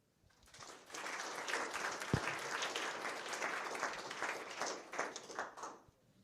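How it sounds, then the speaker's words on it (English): A conference audience applauds at the end of a science presentation, with steady clapping from many hands that starts sharply, holds for about five seconds and then thins out, moderately loud and without speech. "Katie, I hope you heard the applause you got from the audience."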